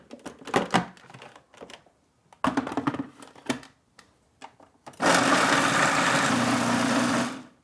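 A food processor chops vegetables for sprouted buckwheat crackers, first in several short pulsed bursts, then in a loud continuous whirring run of about two seconds before stopping.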